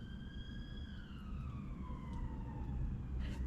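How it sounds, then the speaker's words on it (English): A police car siren wails in a falling, drawn-out tone, fairly faint and distant, over steady low traffic rumble, with no talking. "Just let that police car go."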